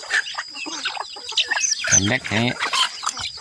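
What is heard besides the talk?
chickens clucking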